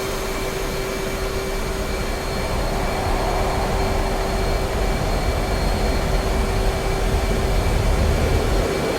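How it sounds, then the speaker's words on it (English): A loud, steady jet roar from an F/A-18C Hornet taking off on a taxiway in DCS World, a constant broadband rush with a high engine whine held throughout, with no talk over it. "I'm going to trigger the internet by taking off on the taxiway"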